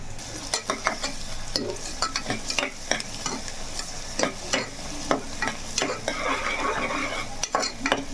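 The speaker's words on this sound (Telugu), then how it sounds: "ఉల్లిపాయలు బాగా వేగాలండి" Onions fry for a curry, sizzling steadily in a pan while a utensil scrapes and stirs in repeated short strokes, close and moderately loud.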